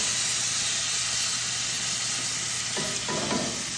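Brats, grilled onions and sauerkraut with beer sizzling steadily on a grill, a loud continuous hiss of frying and steam, with brief scraping of tongs near the end.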